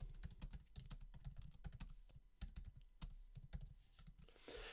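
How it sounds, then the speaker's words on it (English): Rapid, uneven keystrokes on a computer keyboard as a chat message is typed, close and clicky with a soft thud under each press, continuous for several seconds with no talking. "if I type in another message"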